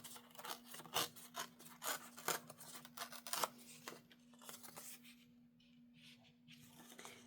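Scissors cut paper for a handmade card, with a run of quick, close crisp snips and rustles that fade into a quiet pause near the end.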